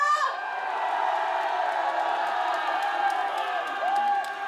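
An outdoor crowd at a music festival concert in Yeongyang shouts and cheers loudly, a sustained wave of whoops and screams from many voices that carries on without pause.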